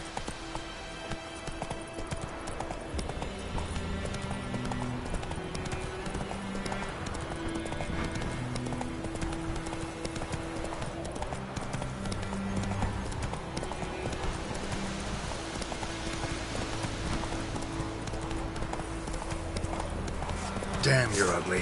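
Hooves of the horse clip-clop at a gallop in The Witcher 3 on PS4, a steady, rapid rhythmic pounding that lasts the whole clip, with game music playing underneath.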